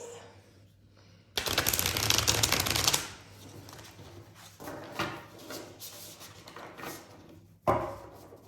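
Tarot cards shuffled briskly by hand, a loud dense riffling burst followed by softer intermittent shuffling and a final sharp card flick, with no talking.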